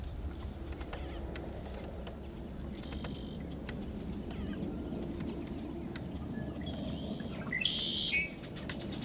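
Several birds chirp and tweet in short bursts against a quiet outdoor background on a kayaking trip, moderately distant, with a brighter call near the end.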